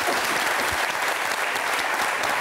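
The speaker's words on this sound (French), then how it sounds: "sous les applaudissements du public" A studio audience at a French talk show breaks into sustained, loud applause, a thick steady patter of many hands with no voices above it.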